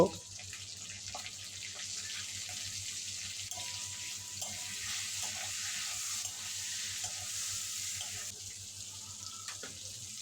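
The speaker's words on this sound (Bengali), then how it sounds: "লম্বা লম্বা পাতলা করে কেটে রাখা আলু স্বাদ মতো লবণ হলুদ দিয়ে কিছুক্ষণ আলুটা ভেজে নেব" Thinly sliced potatoes with salt and turmeric frying in a pan, a steady close sizzle with faint stirring scrapes throughout.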